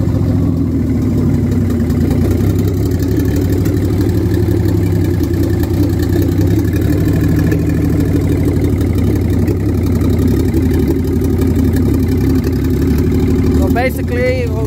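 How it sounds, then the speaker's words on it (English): A Nissan RB25DET engine in a 500 hp build idles roughly and runs lean, a steady, loud low rumble with a slightly shaky beat that goes on throughout, with some faint talk underneath. "The idle is running a little lean, which is causing it."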